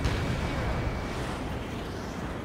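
A missile launch in the Ace Combat 7 flight game comes as a loud, dense roaring whoosh of rocket thrust and engine noise that holds steady throughout without a clear start or end.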